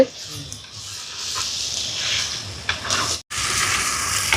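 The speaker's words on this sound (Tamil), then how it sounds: "இப்போ பாருங்க வெங்காயம் நல்லா வதங்கிட்டு இல்லைங்களா" Onions fry in a pan for a Jaffna-style fenugreek curry, giving off a steady, close hiss and sizzle with light crackles and one brief break.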